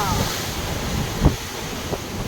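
Sea waves wash onto the shore at Unchakotda with a continuous, rolling surf under heavy wind buffeting the microphone, plus a couple of brief louder bumps.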